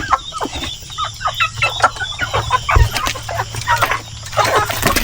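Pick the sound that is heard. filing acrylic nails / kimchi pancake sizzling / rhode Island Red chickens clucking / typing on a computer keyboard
rhode Island Red chickens clucking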